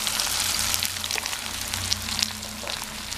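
Grated coconut fries in oil in a pan for idli sambar, giving a steady, close sizzle with soft crackles and a faint low hum underneath.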